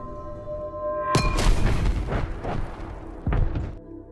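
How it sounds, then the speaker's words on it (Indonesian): A big explosion as a film truck swerves and plunges into a ravine: a heavy boom hits abruptly, rumbling and crackling debris follows, then a second blast bursts near the end. "truknya oleng sampai terperosok ke jurang hingga terjadi ledakan besar"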